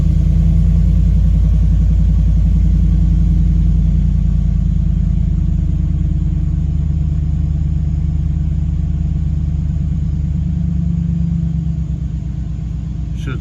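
A tuned car engine runs at a steady high idle, a loud continuous rumble close by that holds even for the whole stretch and eases slightly near the end.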